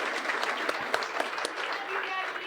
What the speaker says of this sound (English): I think you get a big round of applause for Gigi